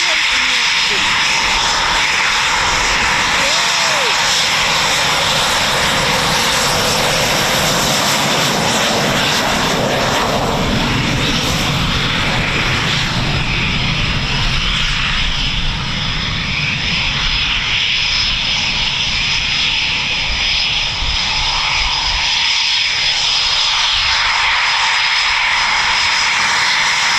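A jet fighter at RAF Coningsby makes a performance takeoff and unrestricted climb, a loud, sustained roar that swells and then gradually fades as the aircraft pulls away.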